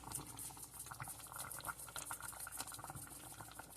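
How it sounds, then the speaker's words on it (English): A pot of beef and cheese ravioli soup with homemade ravioli simmers quietly, a faint continuous bubbling and gentle popping close by. "I'm going to let this simmer for about 5 to 10 minutes."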